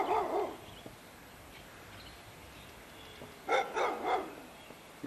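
Pit bull-type dog barking behind a flimsy yard fence outside a house, a few short barks at the start and a louder cluster of barks near the end, fairly close with quiet pauses between.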